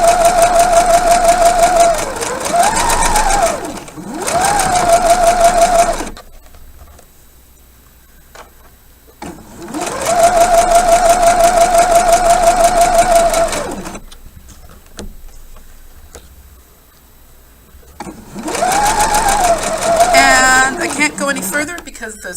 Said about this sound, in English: I'm going to sew forwards and backwards for about 3 to 5 stitches.